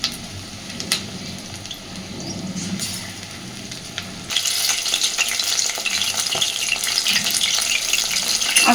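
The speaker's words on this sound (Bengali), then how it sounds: "আস্তে আস্তে এপিট ওপিট উল্টে উল্টে সুন্দর করে মাছগুলোকে ভেজে নেব" Amudi fish frying in a pan over a medium gas flame while being turned side to side: a steady crackling sizzle that grows noticeably louder and denser about halfway through, with no voices.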